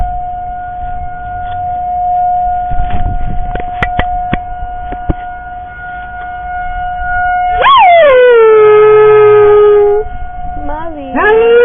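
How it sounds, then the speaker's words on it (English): A wailing neighborhood siren holds a steady tone, then sweeps in rising and falling howls near the end, with neighborhood dogs howling along at a distance and a person speaking softly beneath. "There are other dogs howling in the neighborhood too."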